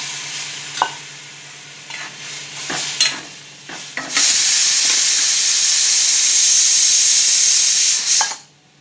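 A thin cauliflower curry in a pot is stirred with a few scraping clinks, then breaks into a loud, steady bubbling boil with steam hiss that runs for several seconds before cutting off.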